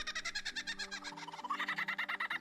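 A lyrebird mimicking other birds, a fast run of bright, rhythmic repeated chirps and whistled notes, fairly faint and heard alone.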